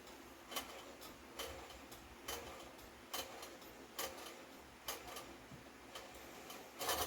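Sewing machine stitching away, a steady ticking mechanical rhythm of needle strokes with regular louder clacks, close by and moderately loud with no talk over it.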